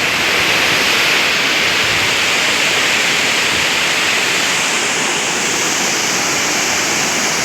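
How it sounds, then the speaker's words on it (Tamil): A waterfall crashes in a loud, dense, unbroken roar of falling water, close and steady throughout with no voices. "ஃபால்ஸ் எவ்வளோ அழகாக விழுது பார்த்துறா."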